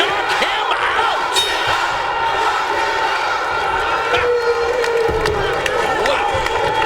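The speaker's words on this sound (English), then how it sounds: "And the crowd screaming, knock him out!" A crowd in an MMA arena screams and cheers steadily near the end of a fight. Shouts and whistles rise out of a dense roar that runs the whole time.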